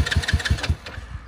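A new moped engine cranking without catching, a rapid chugging of about six loud pulses that then fades into weak, uneven turns as the motor fails to start.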